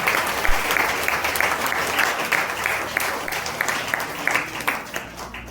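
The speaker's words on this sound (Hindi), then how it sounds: "जोरदार ताली बजाओ।" A church congregation in a Hindi Christian service bursts into loud, sustained clapping and applause, a dense steady patter close by with crowd noise underneath.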